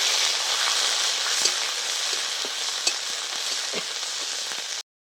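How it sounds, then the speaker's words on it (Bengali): Ginger and green chilli paste sizzles steadily in a hot pan, a dense continuous frying hiss broken by occasional soft scrapes of stirring, close and fairly loud before cutting off abruptly. "এবার আমি আদা আর কাঁচা লঙ্কা বাটা দিয়ে দিচ্ছি। এবার খুব ভালো করে একটু নেড়ে চেড়ে নেবো"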